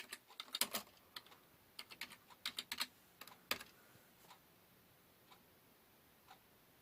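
Computer keyboard keys tapped in quick irregular bursts while typing a search, crisp close clicks with short pauses that thin out toward the end, in a quiet room.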